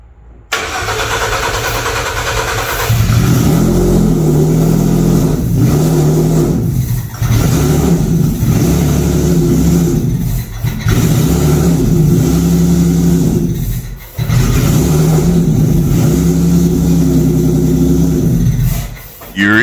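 A 1978 Ford Pinto Cruising Wagon engine cranks and catches, then revs repeatedly in loud surging bursts that drop back briefly between pulls, heard close with some talk underneath.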